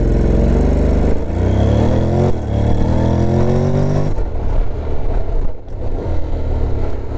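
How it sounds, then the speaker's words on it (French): A Honda Forza 750 scooter in sport mode accelerating hard from a standstill, the engine note climbing loudly through rising revs for several seconds before dropping into a rougher, fluctuating drone. "Alors on va faire un petit test d'accélération freinage là."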